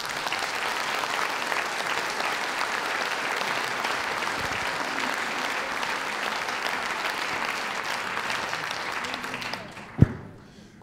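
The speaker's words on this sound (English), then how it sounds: "Thank you very much for that applause." Sustained applause from a meeting audience greets the chairman, dense and steady for about nine seconds before tapering off, with a sharp knock near the end as it fades.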